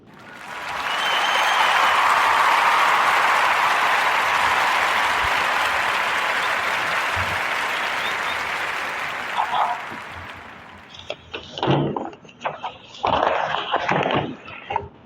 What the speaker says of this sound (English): round of applause for Sister Shahrazad Ali